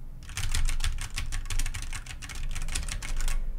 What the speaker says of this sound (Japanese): キーボードの叩いた音は